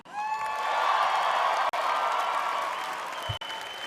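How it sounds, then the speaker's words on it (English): A large audience applauds steadily at the 2019 Miss USA preliminary competition at the Grand Sierra Resort in Reno Tahoe, with loud, dense clapping mixed with scattered cheers and whoops throughout. "So let's hear all that applause tonight."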